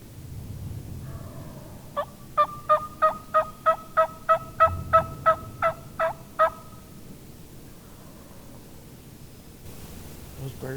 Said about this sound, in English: Those birds across the river are getting close.